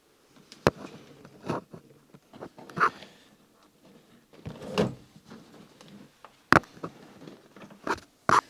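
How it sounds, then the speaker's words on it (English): Clicks, taps and knocks of a door card being pressed onto a Porsche 924 door, scattered sharp snaps at irregular intervals with softer rustling and handling noise between them, close and fairly quiet. "Now I can fit the door card."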